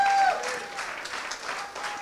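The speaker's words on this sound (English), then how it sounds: "Let's give him another round of applause," An audience at a cabaret-style variety show breaks into applause, a thick burst of clapping that starts strongest and then settles to a steady, slightly softer patter.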